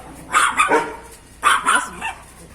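Dogs barking nearby in two short bursts of two or three loud, sharp barks each, separated by a pause, with no one talking.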